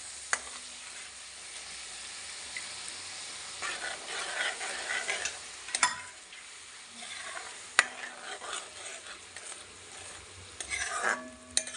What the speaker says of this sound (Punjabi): ਹੁਣ ਇਹਦੇ ਵਿੱਚ ਆਪਾਂ ਥੋੜਾ ਜਿਹਾ ਪਾਣੀ ਐਡ ਕਰ ਦਿੰਦੇ ਹਾਂ ਤਾਂ ਜੋ ਆਪਣੇ ਪਿਆਜ਼ ਟਮਾਟਰ ਜੋ ਮਸਾਲੇ ਨੇ ਚੰਗੀ ਤਰ੍ਹਾਂ ਪੱਕ ਸਕਣ